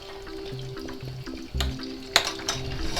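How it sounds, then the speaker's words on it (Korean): Butter melts in a hot pan with a soft, continuous sizzle, joined by a few sharp clicks and clatters of utensils, close and fairly quiet, with no voices. "버터를 한번 태우듯이 녹여줄 거예요"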